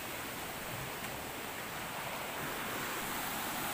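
A strong river current rushes through a forest as a steady, broadband roar, continuous and fairly faint, with no voices.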